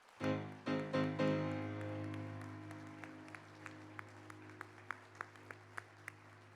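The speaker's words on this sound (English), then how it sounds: "So let's give them all a round of applause." Applause for nominees at a business awards evening: a few loud claps burst out, then the clapping thins into scattered, fading individual claps.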